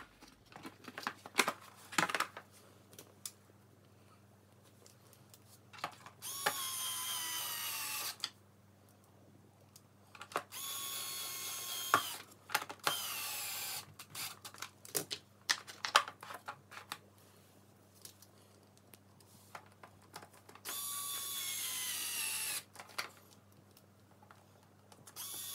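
Screws being driven back into the front frame of a Stokke Trailz stroller, with faint ratcheting clicks and several louder sustained whirring bursts, close and fairly quiet over a low steady hum.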